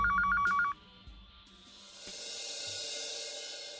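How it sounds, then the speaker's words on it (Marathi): A telephone bell rings in a quick electronic warble, loud and close, for under a second, then cuts off and gives way to quiet room noise that rises into a soft broadband hiss. "फोनची बेल वाजली."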